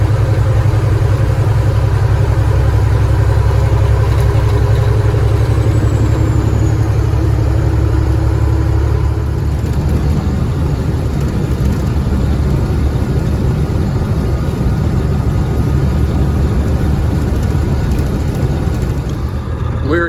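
Cat 3406E engine in a truck with an unresolved running fault, a loud steady low rumble idling close by for twenty seconds, its tone shifting partway through.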